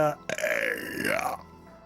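A long, loud, croaking burp from a man, sounding close and lasting over a second with a rising and falling guttural tone, with no other sound around it.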